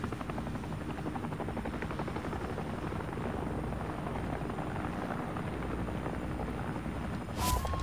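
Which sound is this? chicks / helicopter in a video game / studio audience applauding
helicopter in a video game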